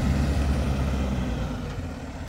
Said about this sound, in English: Here comes the concrete pump.